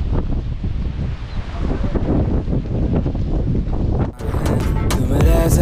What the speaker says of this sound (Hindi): साफ नहीं आ रही होगी, बहुत तेज हवा लगी हुई है अभी